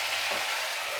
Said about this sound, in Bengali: ঝোলের সঙ্গে মশলাটা ভাজা হবে